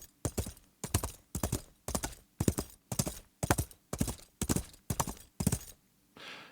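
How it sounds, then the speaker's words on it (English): Horse hoof clip-clop from a Foley Collection virtual foley instrument: about a dozen paired hoof strikes in a steady trotting rhythm, crisp and close, ending with a faint noisy tail, no talking. "You can have the horse on different surfaces."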